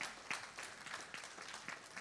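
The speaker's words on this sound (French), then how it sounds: "on peut les applaudir." Light applause from a small church congregation, a patter of claps spread evenly across the moment with a few sharper hand strikes standing out, fairly quiet and distant.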